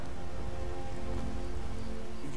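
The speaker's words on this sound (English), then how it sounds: "Some rain." Steady rain falls in Skyrim, an even broadband hiss of drops on surfaces with no breaks and no talk.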